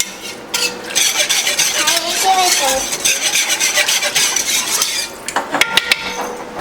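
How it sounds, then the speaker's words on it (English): A spoon stirs a chicken freezer-meal mixture in a pot, giving close, continuous scraping and rubbing with a few sharp clinks of metal against the pot toward the end; no one speaks. "so we just want to stir this up. Make sure that it's all the way incorporated"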